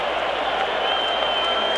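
A packed ballpark crowd at Game 5 of the 1984 World Series, Padres against Tigers, roars and applauds in a continuous, loud wash of cheering and clapping that holds steady throughout.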